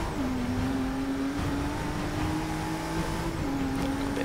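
Turbocharged V6 race car engine in Forza Motorsport 6, a steady muted drone holding one pitch with a small step up, fairly quiet and unchanging.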